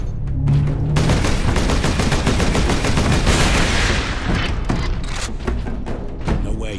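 Security turret guns in the Space Marine video game fire in sustained, dense bursts of rapid gunfire, loud and close, continuing with scattered heavy thumps throughout and no speech.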